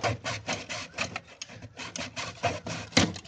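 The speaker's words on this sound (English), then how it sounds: "Just cut right through the pipe." A hand saw cuts through a plastic drain pipe for a French drain, with rapid rhythmic rasping strokes, roughly three per second, close and moderately loud with no talk.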